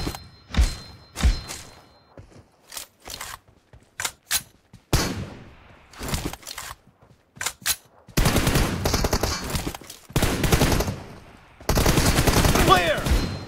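M416 rifle fire in the PUBG video game, a one-on-one team deathmatch. Sharp single shots and short bursts come first, then long sustained automatic strings, loud and close.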